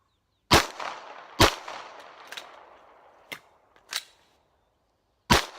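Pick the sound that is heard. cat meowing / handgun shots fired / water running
handgun shots fired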